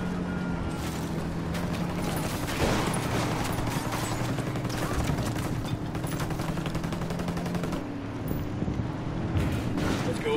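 Video game gunfire in Ghost Recon, dense continuous bursts of rifle and automatic fire with sharp cracks over a steady roar of battle noise, loud throughout.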